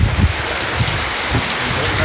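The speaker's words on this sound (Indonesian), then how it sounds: "kalau mau lihat lagi hujan" Rain falls in a steady, loud hiss and patter on surfaces nearby, with a few soft low thumps mixed into the continuous wash.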